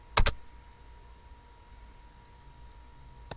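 A computer mouse gives two quick, sharp clicks in close succession near the start, then only faint room hum, with one more light tick at the very end.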